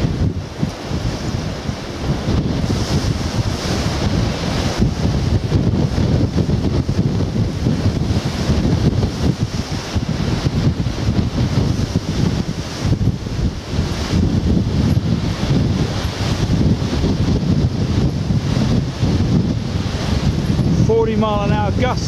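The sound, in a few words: strong wind gusts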